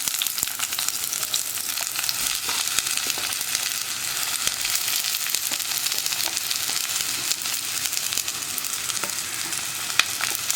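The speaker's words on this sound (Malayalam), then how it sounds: "ഇതെല്ലാം ചേർത്തിട്ട് നമുക്കൊന്ന് വഴറ്റിയെടുക്കണം." Green chili, onion and garlic sautéing in a pan, a constant close sizzle with frequent small clicks and scrapes of stirring, no voices over it.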